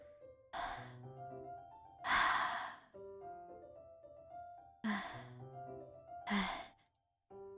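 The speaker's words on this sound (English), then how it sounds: "What's that noise? It's coming from around the corner. It sounds like breathing." Heavy breathing in the video game DDLC Plus, four loud, breathy exhales or gasps spaced a couple of seconds apart over a soft musical background with sustained notes.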